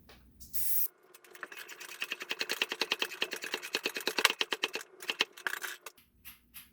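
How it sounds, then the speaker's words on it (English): A hand pump inflates a mountain bike inner tube in a quick run of sharp, rhythmic hissing strokes, close and fairly loud, speeding up in the middle before trailing off. "Just go ahead and re-inflate."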